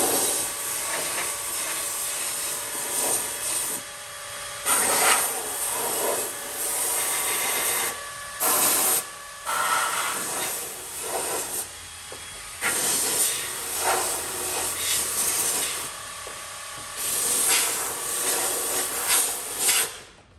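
An aerosol spray hisses into the chassis leg of a Honda Civic FN2 Type R in long, close, loud bursts separated by short pauses.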